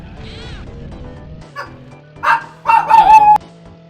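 A pet dog barks several times in short bursts near the microphone indoors, with a game's music and sound effects playing steadily underneath.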